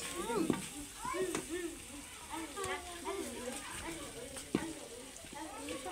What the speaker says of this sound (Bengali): এখন মাংসগুলো দিয়ে দিচ্ছি